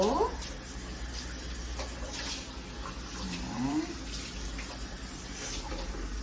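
Tap water runs over a hair-extension wig to rinse off shampoo foam, a continuous close splash and trickle with faint voices beneath.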